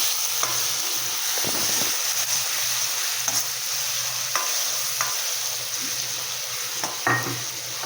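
Ginger, garlic and green chili paste fries in an iron wok with a continuous soft sizzle, broken by a few sharp spatula scrapes and taps against the metal.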